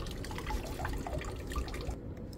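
Water drips and trickles steadily inside a Mitsubishi City Multi air-conditioning unit near its drain pump, which has an error code 2502 fault. Close, continuous splashing with scattered distinct drops and no voices.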